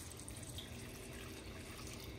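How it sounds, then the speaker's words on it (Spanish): Tap water runs into a pot of potatoes and carrots being set to boil, a faint steady splashing and pouring stream that continues unbroken throughout with no talk. "Le vamos a poner agua."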